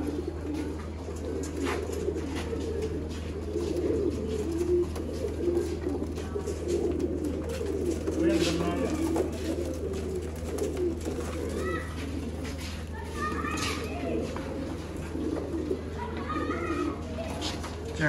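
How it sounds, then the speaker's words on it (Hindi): Sialkoti pigeons cooing in soft, repeated low calls against a steady background hum, with a few higher chirps later on. "लाजवाब सियालकोटी कबूतर।"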